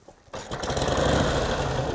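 A 1949 Harley-Davidson Panhead enduro racer with a 74 cubic inch overhead-valve engine catches after a quiet moment and settles straight into a loud, steady, throaty idle close by.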